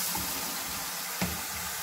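Steady rushing water from a handheld shower head pouring into a mini washing machine tub, loud and continuous and close, with a brief splash partway through.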